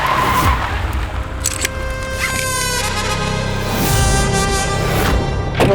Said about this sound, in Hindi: सिकंदर गाड़ी रोक